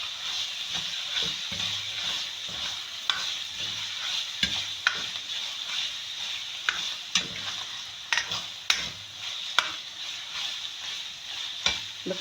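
Minced meat and capsicum fry with salt, ground coriander and turmeric in a hot pan, holding a steady sizzle while a utensil stirs and clicks against the pan at irregular intervals.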